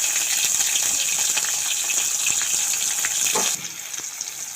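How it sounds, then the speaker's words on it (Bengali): Chopped onion and tomato sizzling in a pan while spinach dal is being made, a steady bright hiss of frying that holds evenly and then softens slightly near the end. "পেঁয়াজ আর টমেটোটা দিয়ে দিয়েছি ভাজা ভাজা হচ্ছে"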